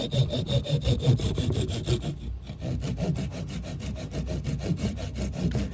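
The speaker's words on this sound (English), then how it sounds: "these saws aren't made for dowel rods. They're made for thicker wood." A hand saw cuts through a wooden dowel rod in quick, even back-and-forth strokes, close and crisp, with a short pause before the rasping rhythm resumes.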